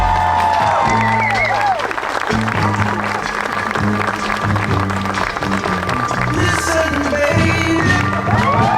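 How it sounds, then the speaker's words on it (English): Wedding guests applaud a newly married couple, steady dense clapping filling the room from start to finish, with music and voices mixed underneath. "Give them a round of applause,"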